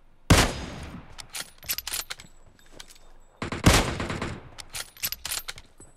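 Gunfire in the mobile battle royale game PUBG Mobile, two loud bursts of rapid shots each followed by scattered single cracks, sharp and close.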